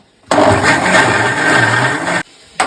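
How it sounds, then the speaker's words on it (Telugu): A mixer grinder whirs loudly and close for about two seconds while grinding tomato chutney, then stops abruptly before a brief restart at the end. "మిక్సీకి వేసుకోవాలి."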